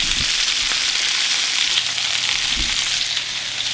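Meat sears in a hot frying pan with a loud, steady hiss and sizzle. A few soft clunks of the pan sound up close, with no talking.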